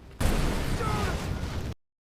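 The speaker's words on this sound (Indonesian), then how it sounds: "Lalu mobil itu ditembak rudal dari jauh dan meledak." A car blows up after being hit by a missile fired from a distance: a sudden loud, dense blast that roars for about a second and a half, then cuts off abruptly into silence.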